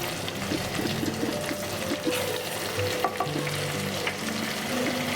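Bay leaf frying in oil in a pan while being stirred, a steady dense sizzle close up with a faint scrape of the spoon and occasional small pops, no voices.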